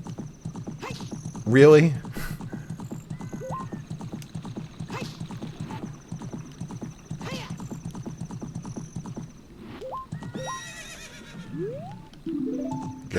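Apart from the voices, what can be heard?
horse galloping and neighing in video game Ocarina of Time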